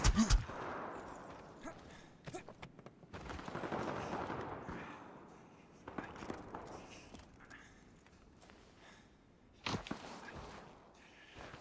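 Gunfire in the shooter game Wardogs comes as scattered single shots and short bursts at moderate distance, with a louder crack near the end, amid footsteps and ambient game noise.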